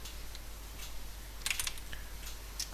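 Keys clatter on a computer keyboard in short, scattered bursts, faint and close by, with a few quicker clusters and no voices.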